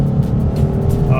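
A Shelby Mustang GT500 accelerates hard out of a corner, its engine a loud, steady rising roar heard close from the cabin.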